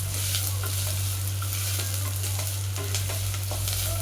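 Onions frying in oil with cinnamon, bay leaf and other whole spices for pudeena rice, a constant close sizzle with intermittent stirring scrapes under a low steady hum, no talking.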